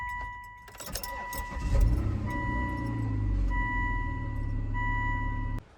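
A Volvo 3.2L inline-six with 296,000 miles starts and idles after a coil replacement: a brief crank catches into a steady, smooth engine drone, with a faint high whine throughout, before cutting off abruptly.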